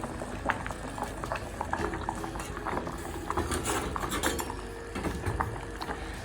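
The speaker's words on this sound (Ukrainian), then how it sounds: "І залишаємо ще варитися" Borscht bubbling steadily in a pot, a continuous close simmer with small pops and occasional faint clinks, no talk.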